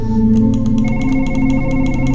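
A telephone rings in an office inside a Chinese horror exploration game, giving a loud, sustained electronic tone with a rapid pulsing warble layered over steady hum, heard alone.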